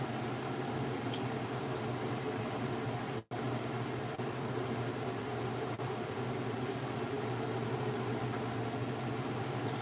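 Gorditas fry in hot oil in a Lancaster cast iron skillet, giving a steady, even sizzle and hiss that carries on without pause, with one brief dropout partway through.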